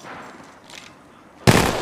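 Weapons fire in the Apex Legends Mobile video game with a sudden loud burst of gunshots near the end, after a quieter stretch of game ambience.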